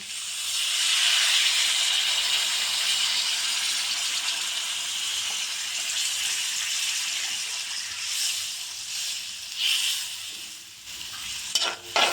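Water poured onto bhagna fish frying in a mustard chorchori sends up a loud, close, continuous steam hiss that slowly eases, with a few clattering utensil knocks near the end and no talking.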